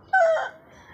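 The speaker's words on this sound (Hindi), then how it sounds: "बहुत दिनों बाद ये आवाज़ इतनी पास से सुना है मैंने मुर्गे की" A rooster crows very close by in a shaded garden, one loud, hoarse, rising call that cuts off abruptly and leaves a faint tail of ambient noise.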